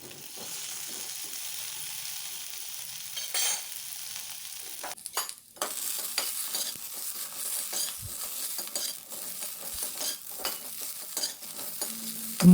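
Country vegetables lightly sautéing in a pan for sambar, a continuous close sizzle broken by scraping stirs and clinks of a utensil against the pot, with no voices.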